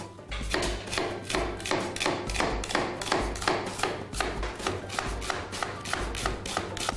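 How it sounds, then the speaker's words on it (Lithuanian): An onion chopped with a knife on a board in rapid, steady strokes, loud and close, each cut a sharp thud repeating evenly throughout. "Susismulkinsim svogūną."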